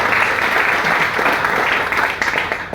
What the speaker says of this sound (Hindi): मैं जोरदार ताली चाहूंगा उस परिवार के लिए जिन्होंने मेरी हेल्प करी।